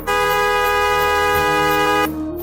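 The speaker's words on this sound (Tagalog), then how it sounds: "Bumusina ako ng paulit-ulit." Car horn blaring loud and close in one long continuous blast that cuts off abruptly near the end.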